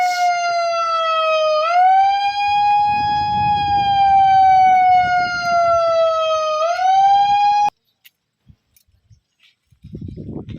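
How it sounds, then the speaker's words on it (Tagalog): An earthquake drill siren wails loud and steady for about eight seconds with a slight rise and fall in pitch, then cuts off abruptly, leaving brief scattered sounds and low background noise. "tapos na yung sirena"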